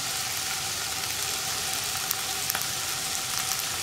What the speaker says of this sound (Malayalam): വെണ്ടയ്ക്ക കുറച്ച് കറിവേപ്പില ചേർത്താണ് നമ്മൾ വഴറ്റിയെടുക്കാൻ പോകുന്നത്.